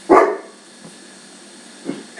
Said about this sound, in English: Neighbor dogs must be out again.